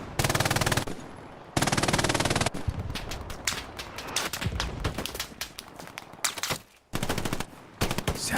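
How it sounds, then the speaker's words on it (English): An MG42 machine gun fires in a multiplayer war video game, rapid bursts of loud, rattling automatic fire in long and short strings, broken by scattered gunshots. "Nice MG42 suppression."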